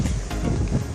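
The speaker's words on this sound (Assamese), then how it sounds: "বতাহখনত আইঐ থাকিবই নোৱাৰি" Strong wind at Nimati Ghat on the riverbank near Majuli buffets the microphone with a loud, rough, continuous rumble for a moment.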